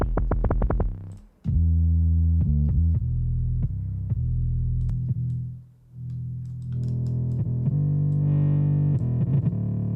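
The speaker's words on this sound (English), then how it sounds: "Almost kind of like a wet noise in the beginning." A heavily processed noisy synth with a wet, bubbling texture swells and cuts out, with clicky glitches and throbbing buzz, loud and without voices.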